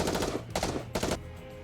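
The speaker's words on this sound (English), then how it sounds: "Asuka and Ray unleash a barrage of gunfire towards the core of the massive object." Rapid bursts of automatic gunfire from the video game NIKKE, three loud dense volleys in quick succession, close and alone with no speech.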